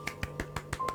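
A character in the game Genshin Impact gives five quick, sharp claps in an even rhythm, crisp and fairly quiet, with no talking.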